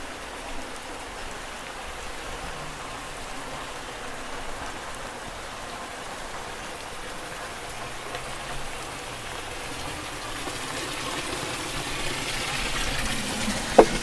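Water flows steadily at a bathing place, a continuous close hiss and splatter like pouring rain that holds for the whole stretch and grows slightly louder toward the end, with no voices.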